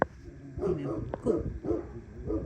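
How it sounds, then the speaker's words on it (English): A neighbor's dog barks in sharp, repeated bursts from a short distance away, the yaps breaking through over a person talking in a garden. "And that is my neighbor's dog."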